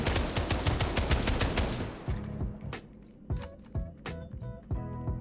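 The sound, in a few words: sniper rifle gunfire in a Final Fantasy video game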